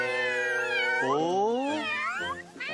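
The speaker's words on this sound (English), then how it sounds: "Three playful kittens." Cartoon kittens meow in a rising and falling series of drawn-out, overlapping mews, close and clear, with a single short spoken interjection near the end.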